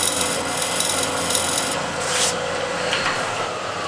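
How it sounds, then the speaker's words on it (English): A negative rake scraper shaves across a wooden workpiece in a continuous close rasping scrape, fairly loud and sustained, with a couple of brighter strokes near the end and no voices. "using negative rake scraper"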